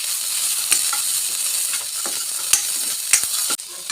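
Tomato and dried red chillies fry in a pan while being stirred, giving a constant bright sizzle broken by several sharp scraping strokes of the spoon.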